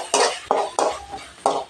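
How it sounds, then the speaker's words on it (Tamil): Four or five scraping strokes of a spoon against a pan as ginger garlic paste is sautéed in oil, sizzling briefly with each stir, close and rhythmic. "இதை சேர்த்துக்கிட்டு கொஞ்சம் நேரம் நம்ம இதை வதக்கி விடலாம்."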